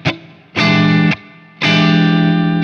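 Distorted electric guitar playing a syncopated blues rhythm, with three loud, sustained chord hits and short muted gaps between them.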